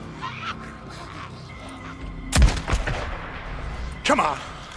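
Shotgun blasts in the zombie video game Days Gone, two loud, sharp booms a couple of seconds apart over a low game background, with someone talking.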